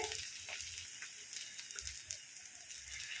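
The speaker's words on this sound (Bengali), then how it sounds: "এটাকে একটুখানি নেড়ে নেব" Paneer bhurji sizzles faintly in a pan as it is stirred, a soft continuous crackle with a few low scraping thumps, quiet and close with no voices.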